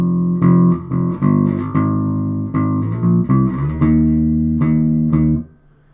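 Bass guitar plays a riff: a clean run of distinct plucked notes heard alone, the last one ringing briefly before the line cuts off.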